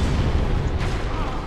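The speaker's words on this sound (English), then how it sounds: "But the explosions, it's always the explosions." Explosion during the Demon Firesage boss fight in Dark Souls, a loud, sustained low rumbling boom filling the whole moment, close and heavy with no clear break.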